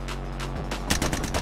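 Rapid bursts of video game gunfire crack out during a duos battle royale match on a new map, first spaced shots then a dense close volley toward the end.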